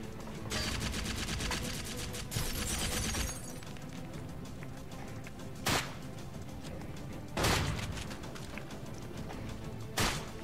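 Gunfire in the Secret Service shooter game, with sustained bursts of rapid automatic shots followed by several separate sharp loud reports spaced a couple of seconds apart.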